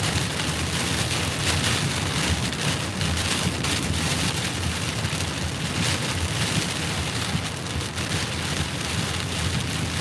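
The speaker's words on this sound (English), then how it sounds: "It's raining inch and a half" Torrential rain from Hurricane Ian in southwest Florida hammers down in an unbroken, loud, hissing wash, steady throughout without any speech.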